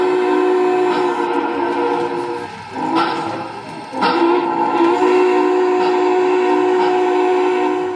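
Two Lionel model trains, including a Lionel 2015 anniversary nickel-plated engine, run together on track, giving a steady droning hum of motors and wheels with whistle-like tones swelling and dipping midway, close and fairly loud, without talking.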